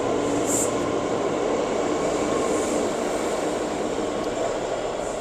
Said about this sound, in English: Trains go uptown here, and lower level where same trains go downtown.